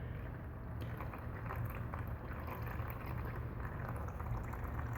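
Engine oil draining from a 2016 Kawasaki KX250F four-stroke, a steady liquid stream splashing and trickling into a pan, close and continuous with no talk.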